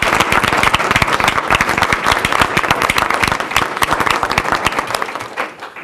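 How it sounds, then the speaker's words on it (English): Steady, loud applause fills a school board meeting as honored leaders are recognized, dense hand clapping from the audience sustained for several seconds before tapering off at the end. "let's give them a big round of applause"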